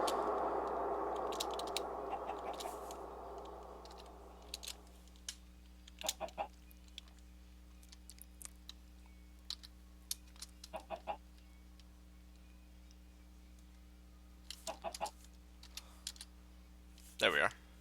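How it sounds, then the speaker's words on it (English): Minecraft chickens give several short clucks spread across the span, some in quick pairs, over a steady electronic hum after a fading burst of noise at the start; the clucks are moderately loud and isolated. "No more chicken noises"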